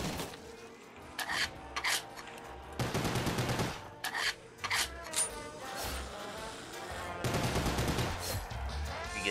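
Pistol fire in a zombie-survival video game comes as a run of sharp, separate shots, some in quick pairs, over a constant low game background with bursts of louder noise between them.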